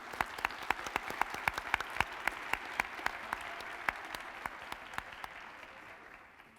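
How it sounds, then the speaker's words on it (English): Applause for judges and a sheriff at a county Martin Luther King Jr. celebration, a broad wash of clapping with a few sharp nearby claps standing out, slowly fading. "So let's give them a round of applause."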